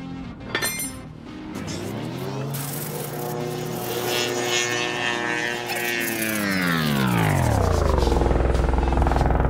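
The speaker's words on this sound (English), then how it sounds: "there's a helicopter flying overhead" A helicopter flies overhead, its loud, steady rotor and engine drone filling the air. The pitch sweeps downward as it passes, then the roar swells again, with no one talking.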